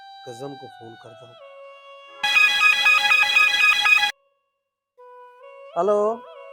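A loud electronic ringtone trills for about two seconds between short bursts of speech, then stops; voices are heard before and after it.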